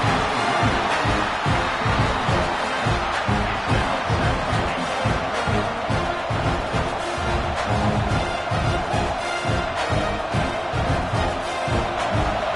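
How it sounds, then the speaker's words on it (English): A large stadium crowd at a football game roars continuously, a dense, loud wash of cheering and noise with no single voices standing out. "Listen to the crowd energy here in the early going."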